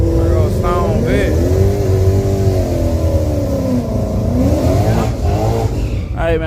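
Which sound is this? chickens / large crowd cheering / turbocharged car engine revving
turbocharged car engine revving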